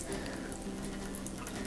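Water drains from the spigot of a kombucha beverage dispenser set at the side of a sink, a steady faint trickle and splash running alone throughout with no talking.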